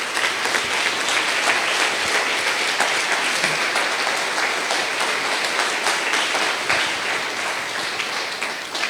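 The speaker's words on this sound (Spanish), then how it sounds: "denle un gran aplauso a nuestro Rey" A church congregation applauds together, a dense, steady wash of clapping that fills the room at full level for the whole stretch with no talk over it.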